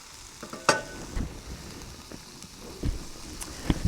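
Onions cook in a stir-fry pan with a steady low sizzle, broken by several spatula stirs and scrapes against the pan.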